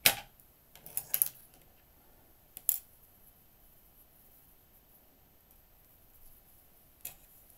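Scissors cutting yarn after knitting: a few sharp snips close up at the start, then a single click a moment later, with quiet stretches and one faint snip near the end.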